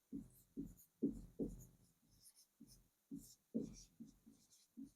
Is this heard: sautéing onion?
no